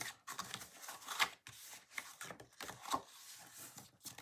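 Small scissors snip through paper while a craft box is being made, close and quiet with short crisp cuts and light rustling of the sheet between them.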